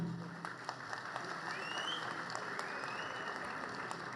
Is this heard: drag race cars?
no